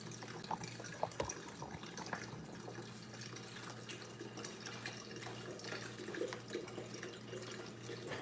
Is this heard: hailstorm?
no